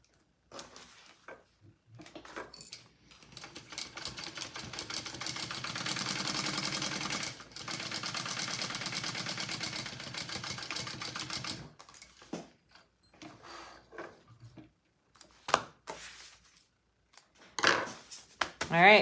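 A sewing machine basting a fabric crossbody bag runs in one steady, close whirring burst of about nine seconds with a brief pause partway. Scattered clicks and handling noises of fabric and tools come before and after it.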